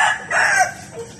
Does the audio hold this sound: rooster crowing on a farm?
yes